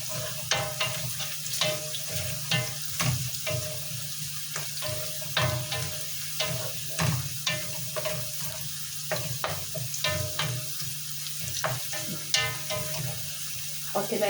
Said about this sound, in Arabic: خلي بالكم التومه ما تحمرهاش قوي